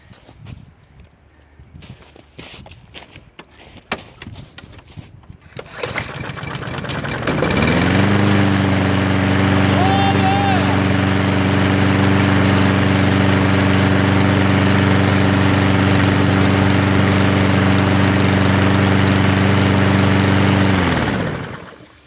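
A Husqvarna 21-inch lawn mower with a Briggs engine and a new blade clatters with handling noises, catches on the pull start, then settles into a loud, steady engine drone that runs close up until it cuts near the end.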